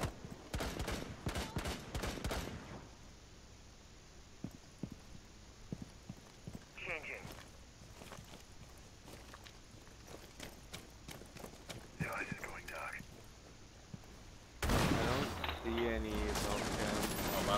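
Gunfire shoots through a wall in Rainbow Six Siege on the Hereford Base map, rapid loud bursts at the start and again near the end, with scattered single shots between them and players talking over it.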